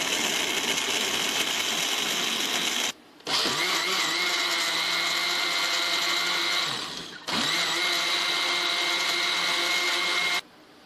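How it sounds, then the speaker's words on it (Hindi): A kitchen blender runs loud and steady, whirring through an apple milkshake with milk and cinnamon powder, in three continuous bursts separated by brief pauses. "अब हम इसे अच्छी तरह ब्लेंड कर लेंगे"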